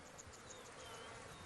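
Flies and insects buzz continuously around a sick buffalo's carcass in the African wild, a dense, close drone with individual wingbeats passing by.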